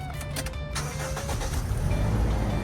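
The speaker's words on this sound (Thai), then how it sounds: "สตาร์ทเครื่องอะไรครับ" A 2012 Toyota Innova 2.0V automatic cranks briefly and catches, then settles into a steady close idle that holds to the end, with no voices over it.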